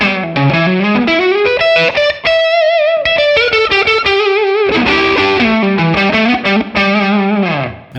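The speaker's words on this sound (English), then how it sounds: "I also have a room reverb, which you can hear right now." An overdriven electric guitar through a ToneX classic overdrive pedal model with a touch of room reverb, playing loud sustained chords and melodic lines alone, the distortion thick and the reverb tail subtle.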